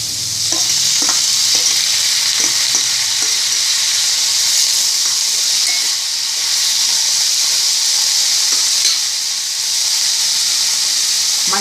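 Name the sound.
onion and tomato sautéing in coconut oil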